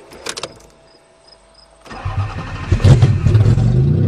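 A Toyota Cressida V6 cranks and fires after a near-silent pause, catching at about two seconds and swelling into a loud, rough, steady rumble close to the microphone.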